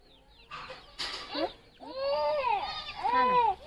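Hens clucking close by in short, rising squawks and calls, with a few scattered rustles and knocks in the background.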